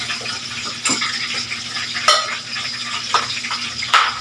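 Onion and ginger sauté in a pan with a close, steady sizzle. Spatula scrapes and light clinks against the pan recur every second or so.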